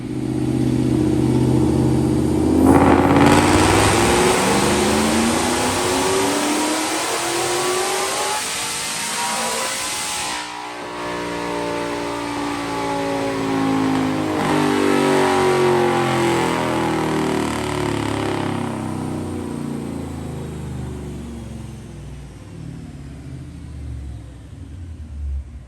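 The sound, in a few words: Whipple supercharged Coyote-swapped 1998 Mustang GT dyno pull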